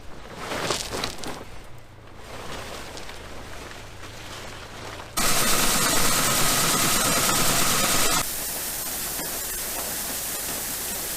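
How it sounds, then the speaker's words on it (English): A farm tractor's engine idles steadily on a winter day during corn hauling, a continuous mid-pitched drone mixed with hissy noise that jumps louder partway through, then settles to a steady, slightly quieter hum. "we're gonna hook the tractor up"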